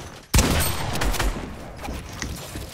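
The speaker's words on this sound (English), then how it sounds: "Now I'm gonna shoot you." Rapid bursts of gunfire from a Fortnite-style shooter game, with one sharp loud shot followed by a dense, sustained rattle of firing and explosions close up, with no talking.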